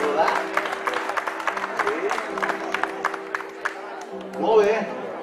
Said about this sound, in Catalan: Un aplaudiment a la Nora